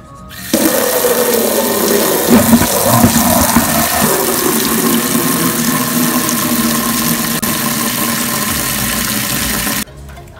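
Water running from a tap to fill a bath for puppies, a loud steady gushing rush that starts abruptly, continues for about nine seconds and cuts off sharply.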